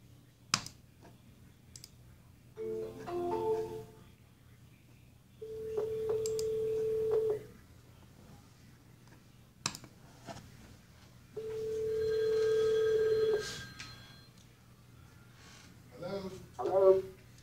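A telephone call is placed: a few clicks and short tones, then two long, steady ringback tones separated by a pause, with brief voices around them.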